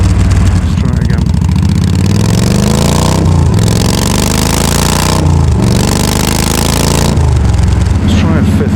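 A Yamaha V Star 1300 motorcycle engine with a Cobra Fi2000R fuel tuner pulls hard under load from low revs, revs climbing in rising sweeps with brief dips at each shift, loud and close throughout.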